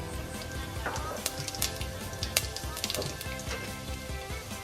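Whole cumin seeds sizzling in hot oil in a pot for daal, a steady close crackle with scattered sharp pops and faint stirring throughout.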